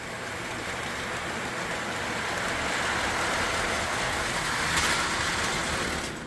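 A Lionel MPC-era GP9 model train pulling a long train rumbles steadily along its track around tight curves, a continuous rolling clatter with faint hiss, holding an even level throughout with no voices.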